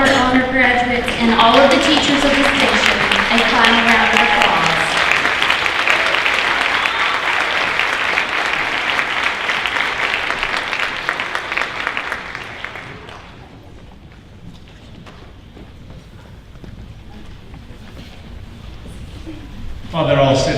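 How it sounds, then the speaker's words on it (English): A high school auditorium audience at a senior honors night applauds honor graduates and teachers, with loud sustained clapping that fades after about thirteen seconds into quieter room noise before a brief burst at the end. "Let's give these students, all of our honor graduates, and all of the teachers of distinction a final round of applause."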